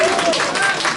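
Applause breaks out for team 8 at a forum on housing resilience and risk management, a brief burst of clapping from a gathered group with voices mixed in.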